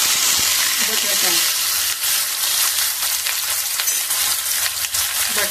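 Raw potato pieces frying in hot oil for a sabudana usal: a loud, continuous, close-up sizzle with bubbling crackle and no speech.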